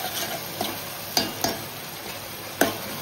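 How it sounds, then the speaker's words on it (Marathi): Onion and tomato frying in a pan for a fenugreek leaf and garlic stir fry, giving a steady soft sizzle with a few sharp scraping taps of a stirring utensil, close and alone. "अजून 1 मिनिट शिजवून देऊ आपण कांदा टोमॅटो व्यवस्थित।"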